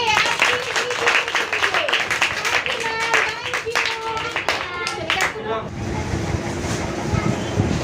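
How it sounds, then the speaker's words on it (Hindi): Schoolchildren in a classroom clap together after a Hindi poem recitation on Teacher's Day, a lively burst of rhythmic claps that thins after about five seconds into a murmur of background chatter. "ताली बजाइए।"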